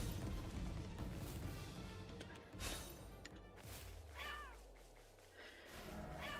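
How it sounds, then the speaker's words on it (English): A cat-like creature in the video game Palworld meows a few times over a busy game soundscape of rumbles and clatter, the calls rising and sliding briefly in the middle. "Yep, meow, meow to you too."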